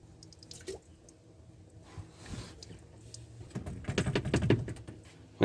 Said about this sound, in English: I'm going to drain this hose out.